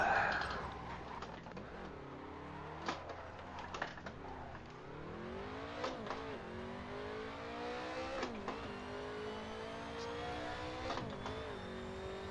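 Race car engine in Assetto Corsa during a 24 Hours of LeMons practice session, revving hard and continuously, with pitch rising through gears and dropping on downshifts into a chicane, loud throughout with brief bumps off the limiter.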